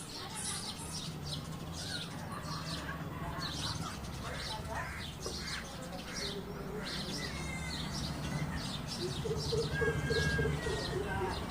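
A bird near a tree gives repeated cooing and chirping calls, fairly faint and somewhat distant, while someone speaks over them for much of the time.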